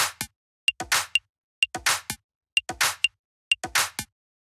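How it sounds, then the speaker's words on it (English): Tech house percussion loop, a dry repeating pattern of crisp claps, clicks and short hits separated by silence, cycling about every second, close and clean with no talking. "then after that we got the percussion, which sounds like this"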